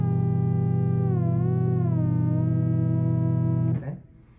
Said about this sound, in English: I'm going to go ahead and turn on a delay and a little bit of reverb